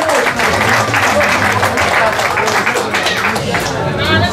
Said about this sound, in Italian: Applausi signori